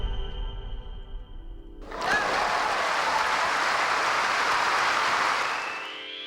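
Crowd applause used as a sound effect bursts in after a low tonal intro, a dense, loud wash of clapping that holds steady for several seconds before fading out near the end.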